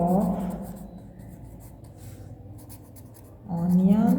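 A teacher writes a decimal maths sum on a board with steady, faint scratching strokes, with talking before and after.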